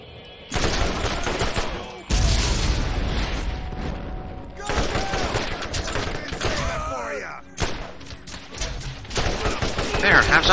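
Gunfire in the video game Borderlands: several loud bursts of rapid shots in quick volleys with short pauses between them, close and punchy.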